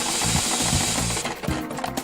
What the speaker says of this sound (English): The backbone of global apparel manufacturing is the industrial sewing machine